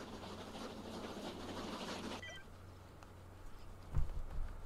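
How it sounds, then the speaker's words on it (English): A train rolls past in the Disney Infinity Lone Ranger video game, a broad rushing rumble that cuts off abruptly midway, followed by quieter rattling and a couple of low thumps. "Normally these trains be carrying water."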